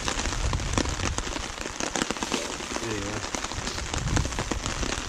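Dense rain patters on a surface close by at a campsite on Kawishiwi Lake, a steady crackling drumming throughout, with someone briefly speaking partway through.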